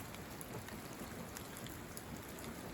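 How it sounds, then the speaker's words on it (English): A slow, steady overnight rain falls outdoors: a faint, even hiss of drops continues without pause, distant and soft, with no one talking. "A slow, steady rain."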